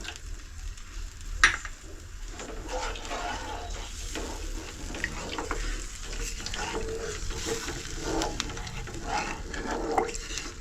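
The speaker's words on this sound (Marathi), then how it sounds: "हे चांगलं मिश्रण असं ढवळायचं" A mixture being stirred in a pot on a gas stove turned up full, heard as soft, continuous scraping and sloshing with faint sizzling and a few light clinks, fairly quiet and without talk.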